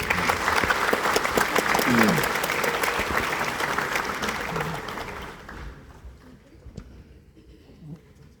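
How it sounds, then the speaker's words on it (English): Audience applause at an evening memorial lecture, a dense, loud wash of clapping that fills the room for about five seconds, then fades to scattered claps and room murmur. "Let's give her a round of applause."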